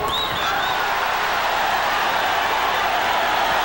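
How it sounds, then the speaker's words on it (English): Boxing arena crowd at a Julio Cesar Chavez versus Roger Mayweather WBC bout, a steady dense roar of many voices that swells slightly and holds loud throughout, with no clear speech on top. "Crowd picks up again as Chavez continues to step inside."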